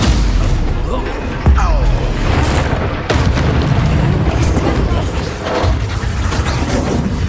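Repeated booming blasts of the Confringo fire spell in the Hogwarts Legacy video game, heavy explosions and crashes layered over continuous loud battle noise while a player shouts over them.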